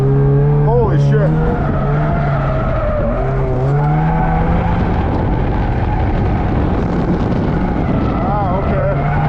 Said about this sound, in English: All right guys, drift test with the stock sway bar settings.